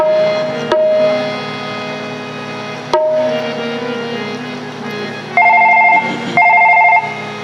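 A phone call ringing through an electronic ringback, repeated tones in separate bursts with gaps between. A brighter two-tone pattern sounds twice near the end, close and clear.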